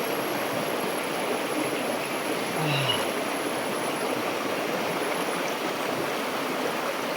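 Steady broadband rush of flowing water from the Temula river in Nyuatan, Kutai Barat, continuous and fairly loud throughout, with a brief low rumble midway.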